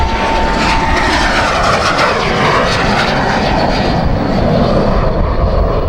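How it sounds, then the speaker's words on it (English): A Grumman Albatross amphibian aircraft flies at an air show after taking off, its engine drone loud, steady and broad, filling the air without pause or voices. "So the Albatross is now airborne."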